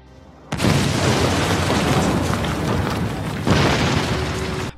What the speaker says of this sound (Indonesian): Setelah gerbang kembali ditutup, tiba-tiba bangunan kastil itu meledak.